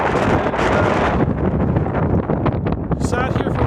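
Strong wind buffets the microphone at a glacier viewpoint near Jasper, a loud continuous roar with gusty swells throughout.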